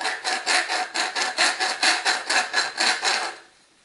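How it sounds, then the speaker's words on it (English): Deburring tool scraping around the outside of a copper pipe end, about a dozen quick rhythmic rasping strokes close by, steady and evenly spaced before stopping abruptly. "we'll just use this side to deburr the exterior of the pipe"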